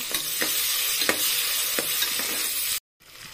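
Capsicum frying in a pan for a methi potato rice dish, a steady close sizzle with a few sharp stirring scrapes, cutting out abruptly near the end before a softer hiss returns.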